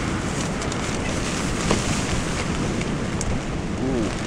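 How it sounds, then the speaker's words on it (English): Steady broadband wind roaring and buffeting a microphone at a tent camp on a quarry edge during a storm, constant and fairly loud throughout with no pauses. "It's getting quite windy."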